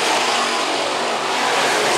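IMCA Modified race cars roar around the dirt oval at Phillips County Raceway, a loud, continuous, close engine roar without a break.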